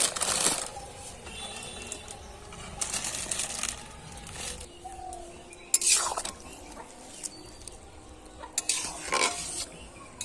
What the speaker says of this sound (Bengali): দেখুন, চাউমিনটা এবার দিয়ে দেব সেদ্ধর জন্য।